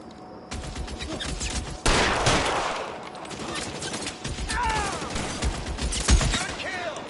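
Rapid bursts of gunfire crackle in an L.A. Noire shootout, beginning abruptly with a loud volley and continuing in dense, rattling fusillades. Shouting voices are heard over the shots.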